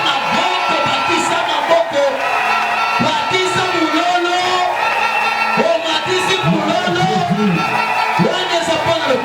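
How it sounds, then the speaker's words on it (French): A church congregation at a Sunday service cheers and shouts loudly for Jesus, with a dense, continuous crowd roar full of whoops and yells that never lets up. "Acclame très fort pour Jésus"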